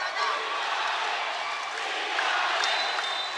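A basketball crowd erupts in loud, sustained cheers and whoops after a big shot late in a tight tournament game, the roar heard close and continuous.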